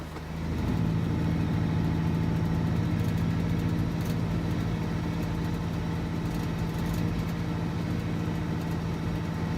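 In the Alaskan Road Truckers driving game, a truck engine idles with a steady, moderate drone that starts abruptly and holds an even, unbroken hum with no voices over it.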